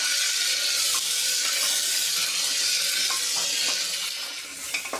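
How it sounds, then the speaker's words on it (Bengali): Ginger-garlic paste frying with onion and chilli in a pan, a steady close sizzle with light scraping stirs, easing slightly near the end. "আদা রসুনের পেস্টটা ভালো করে একটু এভাবে ভেজে নেবো"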